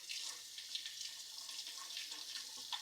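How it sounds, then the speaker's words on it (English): A faucet runs steadily over freshly harvested green beans being washed in a sink. The water hisses softly and evenly at low volume, with faint splashes and drips and no talking. "while our bread is proofing, I'm going to wash up some of these veggies"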